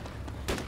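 A single sharp gunshot rings out in the military survival game ArmA 2 DayZ, loud and close, over a low, steady background.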